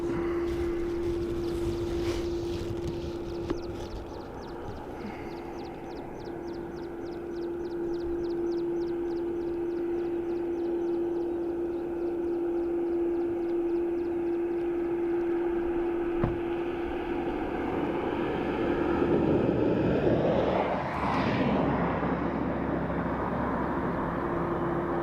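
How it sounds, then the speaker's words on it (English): A Ryanair airliner arriving from Athens at Dublin Airport drones with a steady, even jet whine. The roar swells broader and louder toward the end as the plane draws closer. "Next up, Ryanair in from Athens."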